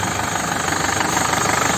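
A hot 2011 Isuzu Panther Grand Touring diesel engine runs steadily at idle, with a dense, even mechanical clatter and hum heard up close throughout, alone.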